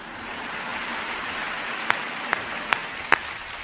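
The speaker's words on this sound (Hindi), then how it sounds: "सब ज्यादा तालियां अधिकारियों ने बजाई इस बात पे।" Applause from the crowd at a comedy poetry show, a soft even rustle of many hands clapping, with four louder single claps standing out near the end.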